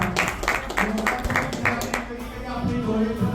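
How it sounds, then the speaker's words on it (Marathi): Audience applause for a trainer at a hotel training session in Pune, a steady spread of clapping hands filling the room throughout, with a low hum underneath. "सरांसाठी पण एकदा जोरदार टाळ्या."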